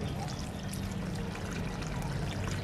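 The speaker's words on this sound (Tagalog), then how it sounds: "Lalagyan po tayo ng tubig." Water pouring over fish in a cooking pot with crushed pepper, bay leaf, garlic and salt, a steady splashing trickle running continuously and close by with no talk.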